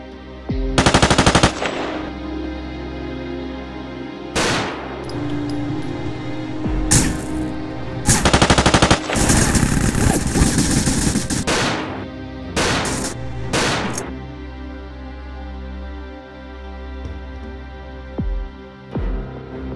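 Game gunfire in GTA San Andreas Multiplayer, with several loud bursts of automatic fire and single shots spread across the stretch, some long sustained volleys, over a steady background hum and without talk.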